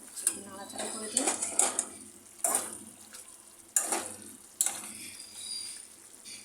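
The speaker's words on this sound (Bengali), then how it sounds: "নাড়াচাড়া করে দিই।" A spoon stirs chicken and papaya curry in a pot, giving bursts of clanking and scraping against the metal every second or so. Light sizzling and a low background hum run beneath.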